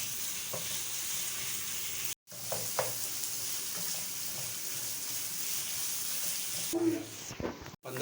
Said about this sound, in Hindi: कीमा को अच्छे से खूब भूनेंगे हम इसमें।